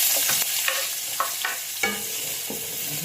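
Onions sautéed in a pan with a steady crackling sizzle, broken by repeated scraping and stirring strokes of a spatula, close and without talk.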